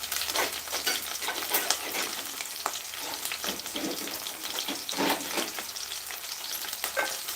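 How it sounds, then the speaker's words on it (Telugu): Ridge gourd curry being stirred in a pan with tomato. A steady sizzle runs throughout, broken by repeated scraping strokes of a spoon, close and fairly loud. "అంతా ఇలా చక్కగా కలుపుకున్నాను"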